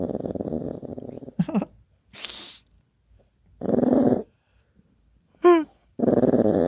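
A dog named Eddie growls close up in several separate rumbling bursts with short silent gaps between them, one ending in a higher whining yelp.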